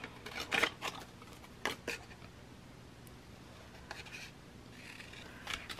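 Scissors snip through paper in a few short, quiet bursts, close by, with soft rustling and small handling noises between cuts.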